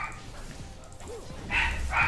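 A dog, belonging to the sister, gives a few sharp barks and yips, with a soft whimper before two louder barks near the end, fairly close and without talk.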